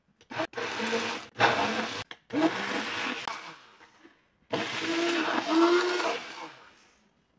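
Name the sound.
blender pureeing boiled potatoes for potato soup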